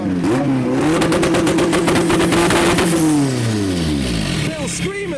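A Toyota MR2 with a 600-horsepower K24 turbo engine and relocated exhaust revs hard at a car show, firing rapid popping, crackling bursts before the pitch drops away, loud and close, with voices under it.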